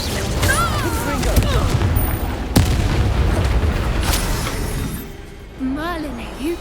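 The Confringo blasting spell in the Hogwarts Legacy video game erupts in heavy booming explosions with a sharp crack partway through, dense and loud over a continuous roar of combat noise, with a voice speaking briefly near the end.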